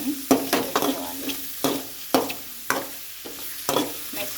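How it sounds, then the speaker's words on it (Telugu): Mushrooms fry in a few spoonfuls of ghee with turmeric while a spoon stirs them in repeated clattering scrapes over a constant close sizzle, with no talking. "ఒక 3 స్పూన్స్ నెయ్యి వేసుకొని మొత్తం ఇలా ఫ్రైలాగా చేసుకోవాలన్నమాట."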